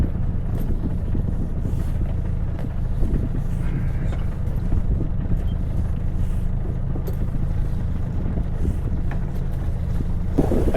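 Sun Odyssey 410 sailboat under sail, with steady wind buffeting and low rushing water noise filling the whole stretch, a constant moderately loud roar with no talk.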